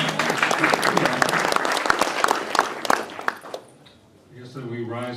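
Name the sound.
applause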